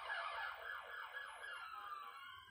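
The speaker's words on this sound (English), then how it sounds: "Oh, and there goes a siren." An ambulance siren wails from outside, faint and distant, its rising and falling sweeps repeating steadily as it passes, with no speech over it.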